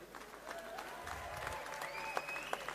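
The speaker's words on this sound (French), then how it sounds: "Toutes les applaudissements pour Rocky Balboa." A crowd applauds a boxer after a bout, faint scattered clapping heard from a distance with a few sharper isolated claps near the end.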